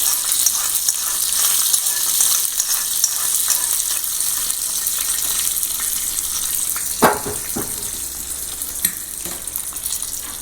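Red chili powder and spices tempering in hot oil for dahi vada seasoning, a loud, steady close-up sizzle with a faint crackle running throughout, briefly punctuated by a soft clink near the end.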